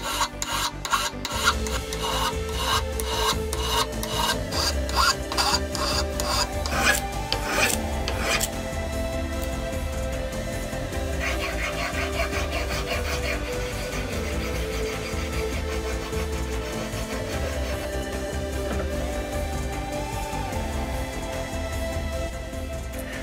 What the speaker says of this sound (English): let's start filing